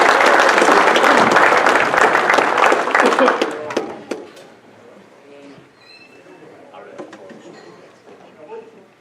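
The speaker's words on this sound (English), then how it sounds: "Ladies and gentlemen, a big round of applause." A motorsports park awards banquet crowd breaks into loud, dense applause for a track champion, lasting about four seconds before tapering into quieter room murmur and a voice over a PA.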